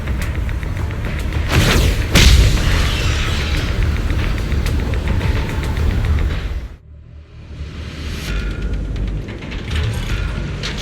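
A deep explosion booms as an array base is destroyed in the video game Zenless Zone Zero, with a loud rumbling blast and mechanical clanks, then a sudden drop to near quiet before a lower rumble returns.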